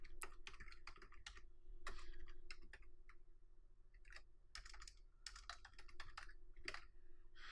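Quiet, rapid typing on a computer keyboard as a WPScan command is entered, with irregular clusters of keystrokes, brief pauses and a faint steady hum behind.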